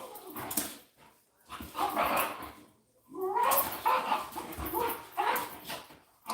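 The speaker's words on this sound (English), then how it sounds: "I am so sorry about my dogs." Dogs indoors barking and whimpering in uneven bursts, moderately close, with whiny high cries between short barks and no talk over them.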